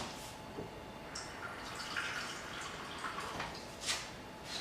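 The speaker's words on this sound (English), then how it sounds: "put that in a pan, and you wanna add some water." Water poured into a pan holding about three-quarter cup of bulgur wheat, a faint, uneven splashing and dripping trickle with small bright spatters, quiet and close throughout.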